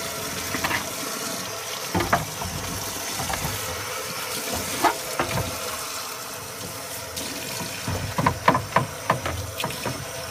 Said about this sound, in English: get a sponge and plenty of running water and get the clay off of the basin